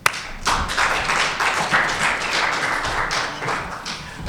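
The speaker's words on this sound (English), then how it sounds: "Let's just give a round of applause." A dense round of applause from a crowd, steady and fairly loud after a sharp opening tap, continuing for several seconds.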